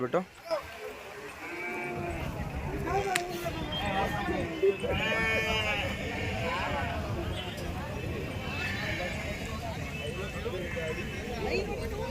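Sheep bleat repeatedly at a busy sheep market, their calls overlapping amid crowd murmur and voices talking throughout, with steady livestock noise in the background.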